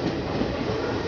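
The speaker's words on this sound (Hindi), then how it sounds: "अपने ट्रेन का यहाँ पे धारवाड़ जंक्शन से डिपार्चर हो चुका है" Karnataka Sampark Kranti Express (train 22685, Chandigarh service) pulling out of Dharwad Junction, heard as a steady, loud rumble of rolling coaches and wheels on rail, continuous throughout with no voices.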